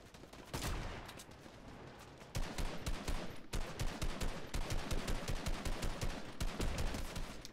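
Gunfire rattles in a shooter video game during a sniping exchange. Dense, rapid shots come in long bursts with a short pause near the start, loud and close, with no voices.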